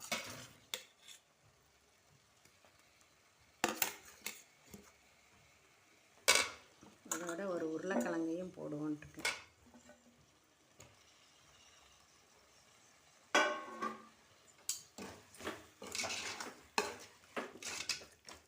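Prawns being stir-fried in a pan for prawn biryani, with intermittent scraping and clattering of a spatula against the pan between quiet pauses, and a voice speaking briefly.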